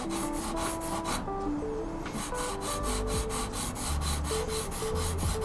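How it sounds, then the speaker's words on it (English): A used Scandi-grind knife bevel is rubbed back and forth on an abrasive, giving close, rhythmic scraping strokes in a steady repeating pattern with no talking. "And you polish a bevel the same way"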